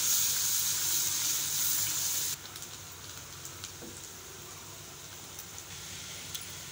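Chopped onion fries in a pan, a loud steady sizzle that drops to a quieter hiss partway through, with faint clinks.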